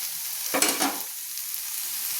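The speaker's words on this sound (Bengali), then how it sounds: "ঢাকা না দিয়ে কিন্তু সজনে ফুলগুলো আমি ভেজে নিচ্ছি, সজনে ফুল আর আলু" Drumstick flowers and potatoes frying in an uncovered pan, with one brief scraping stir over a soft, continuous sizzle.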